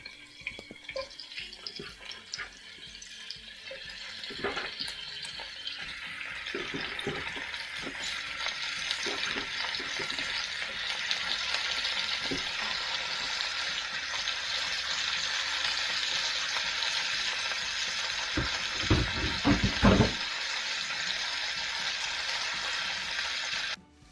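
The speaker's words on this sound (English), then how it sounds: "Once we have a little sizzle action, we place the squirrels into the pot" Squirrel meat frying in hot oil in a pot, a steady crackling sizzle that builds and holds, with occasional clanks and scrapes of utensils against the pot.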